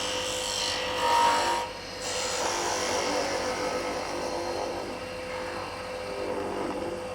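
Woodturning tool rounding over the edge of a wooden hollow-form jam chuck spinning on a lathe, a steady raspy scraping hiss that swells briefly near the start and then continues evenly throughout, with no talking.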